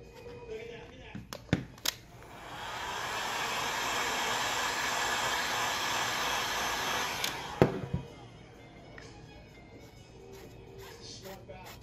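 A heat gun blows a steady, loud rush of hot air for several seconds onto the glass of a Samsung Galaxy S7 Edge to loosen its glue, with a few sharp clicks and taps before and after.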